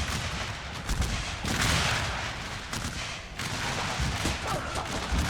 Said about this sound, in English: Comes a return fire from the Confederacy